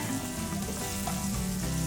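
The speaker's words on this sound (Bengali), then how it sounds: "আলুটা একটু ভেজে নেওয়ার পরে" Diced potatoes fry in oil with a green chilli for semolina pulao, giving a steady, close sizzle that runs evenly throughout with no voices.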